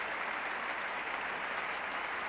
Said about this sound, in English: this big crowd rising to the Australian captain